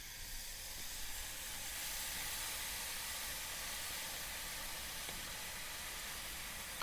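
A 1 kg T-bone steak sizzles on a braai grill, a continuous broad hiss holding steady and even throughout, moderately close with no voices.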